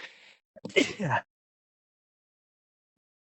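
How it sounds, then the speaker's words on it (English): A single sharp sneeze bursts out close by, then silence follows for several seconds. "And now I'm gonna sneeze because you."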